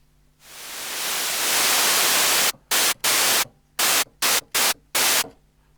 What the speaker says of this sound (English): This untuned white noise.